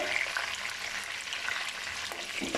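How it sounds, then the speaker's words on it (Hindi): Peeled, washed potato pieces fry in a pan over high flame, giving a dense, continuous crackling sizzle with small pops and faint stirring scrapes, close and even, with no talking. "इसको हम करेंगे थोड़ी देर के लिए फ्राई। फ्लेम हमने हाई रखी है"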